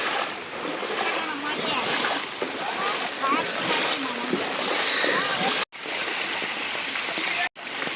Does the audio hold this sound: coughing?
no